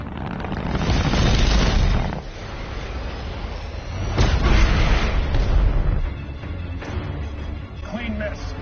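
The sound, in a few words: torpedo firing and explosion in The Expanse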